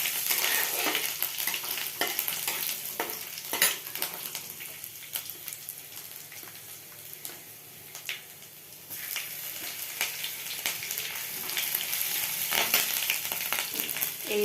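Chopped garlic and ginger frying in a hot pan, a steady close sizzle and crackle with small stirring scrapes, loud and continuous without any talk.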